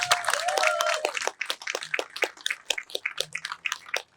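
Scattered clapping from a crowd at a Palestine march in Liverpool, the claps irregular and moderately close, with a brief whistle-like tone near the start, and no talk over it.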